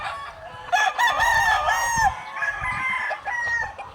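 Gamefowl roosters in breeding pens on a game farm crow repeatedly, several long overlapping calls close by with clucking between, forming a steady chorus with no talk.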